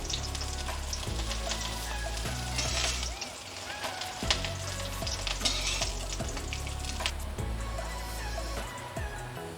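Cauliflower florets frying in oil in a home kitchen, a steady bubbling sizzle with intermittent scrapes and clinks of a spatula stirring the pan, no voices.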